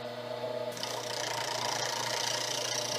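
Carbide tool cutting a very soft metal, a steady whirring machining drone with a brighter hiss of cutting that rises after a moment and holds continuously.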